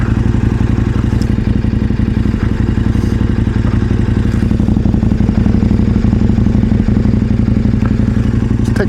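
KTM Adventure 1090 R motorcycle engine while riding, a steady loud mechanical drone with rapid even firing pulses and wind, close and continuous with no talk.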